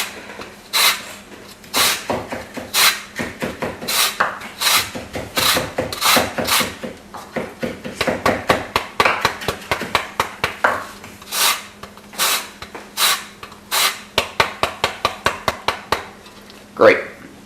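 A knife chopping parsley on a wooden cutting board, rapid bursts of sharp taps in uneven runs with short pauses, close and fairly loud, with a voice talking now and then.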